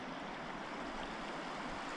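Wild river water on a big, little-known Northwest Territories river rushes past a paddled boat as a close, continuous churning wash with a low rumble, steady and fairly quiet, with no voices.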